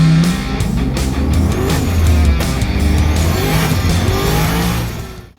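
Turbocharged V8-swapped Mazda FC RX7 running hard on a dyno, a loud sustained engine roar held at high revs before cutting off abruptly at the end.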